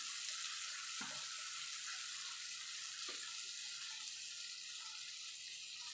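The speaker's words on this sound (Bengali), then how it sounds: "মিক্সির জারটা ধুয়ে জল দিয়ে দেবো" Water running steadily from a kitchen tap into a mixer grinder jar as it is rinsed and filled, a continuous hiss with a couple of soft knocks, no talking.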